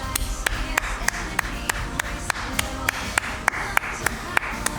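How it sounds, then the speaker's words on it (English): A small group at a tabletop Dungeons & Dragons session claps in steady, evenly spaced sharp beats, close by, with some background murmur underneath. "She gets a good applause for that"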